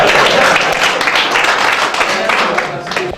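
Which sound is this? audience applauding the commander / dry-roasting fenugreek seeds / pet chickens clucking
audience applauding the commander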